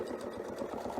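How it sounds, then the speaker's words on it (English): Sewing machine stitching quilt fabric along a curved line, a soft rapid rhythmic whirring and clicking, steady and close. "And now I can just start sewing to the crosshair line."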